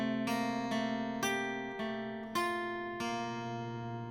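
Acoustic guitar picking a pre-chorus pattern, six clear plucked notes at a steady unhurried pace, each ringing over the low strings, close and alone without any voice.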